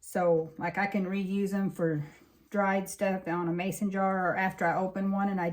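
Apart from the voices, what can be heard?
No everyday noise stands out behind the speech.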